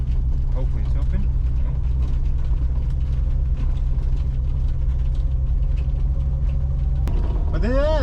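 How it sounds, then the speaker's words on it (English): A 1969 Ford Mustang Mach 1 with a 428 Cobra Jet engine rumbles steadily while driving around town, a deep continuous low drone with faint mechanical rattles and a brief rising whine near the end. "This is gonna be the last ride of the Mustang, the last ride of the Mach 1 before she sits in the garage for 4 months."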